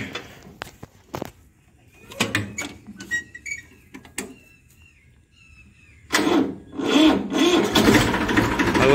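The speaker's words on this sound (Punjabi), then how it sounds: "ਹੁਣ ਮੈਂ ਤੁਹਾਨੂੰ ਟਰੈਕਟਰ ਸਟਾਰਟ ਕਰਕੇ ਦਿਖਾਉਂਦਾ" A tractor being started after self-starter repair and alternator greasing, with a few short cranking bursts and then a loud, sustained engine roar taking hold close by near the end.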